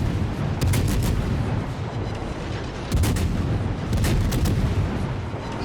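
Warship guns fire in a naval video game, heavy booming salvos landing in clusters a second or two apart over a constant rumbling background.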